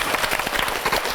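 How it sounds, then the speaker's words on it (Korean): A Korean TV talk show studio audience claps in a brief, dense burst that stays even and close throughout. "박수 주세요."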